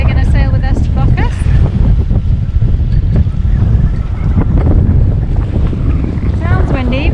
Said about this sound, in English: Sounds windy, but it doesn't say it's windy.